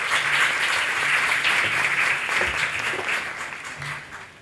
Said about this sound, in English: Please give her a very warm applause.